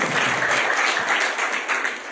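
A seated audience of students at a talk breaks into loud, dense applause that holds steady for a couple of seconds, with no single claps standing out.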